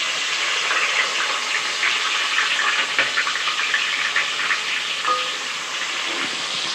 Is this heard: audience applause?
no